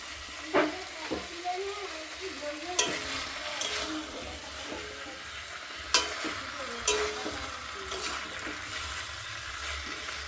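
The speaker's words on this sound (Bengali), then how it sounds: "কষা হচ্ছে মাংস" Meat being stir-fried and browned in a pan, with a steady sizzle beneath several sharp scrapes and clinks of a utensil against the pan at irregular intervals, close by.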